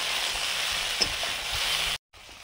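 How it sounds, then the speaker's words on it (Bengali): Sliced okra coated in turmeric fries in a pan with a steady, even sizzle and no talking, broken by a brief silent gap near the end. "ঢেঁড়সগুলো ভাজা হয়ে গেছে। আর একটু হলুদটা ঢেঁড়সের গায়ে লাগিয়ে নিয়ে নেবো।"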